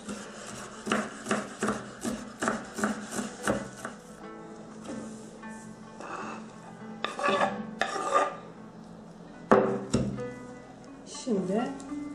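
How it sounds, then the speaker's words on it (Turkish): Fresh dill is chopped on a board for cacık, giving a quick run of regular, crisp knife strikes up close, then scattered softer cuts while a person talks. "Şimdi dereotunu doğruyoruz."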